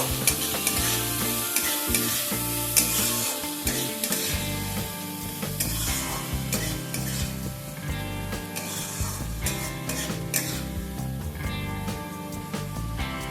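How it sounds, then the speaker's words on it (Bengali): Spicy Bengali chicken kosha with sliced onions being stirred in a sizzling pan: loud, steady frying hiss broken by repeated scraping and clattering strokes of a spoon against the pan, with no voices. "একটু নাড়াচাড়া করে নেব।"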